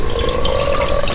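Vinegar pours into a cast iron skillet during a restoration, a steady, fairly loud liquid stream splashing continuously without a break, with no voices.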